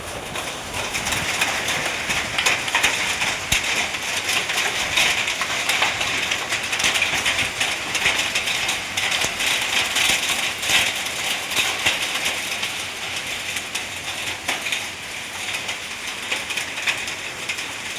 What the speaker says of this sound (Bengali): দেখো কত বড় বড় বৃষ্টি